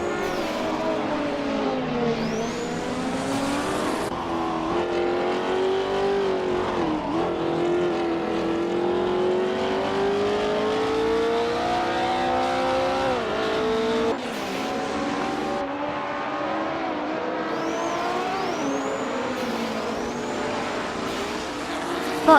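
Race cars in a racing video game speed around a track, engines droning and rising and falling in pitch as they pass, with occasional tire squeals and a faint voice beneath.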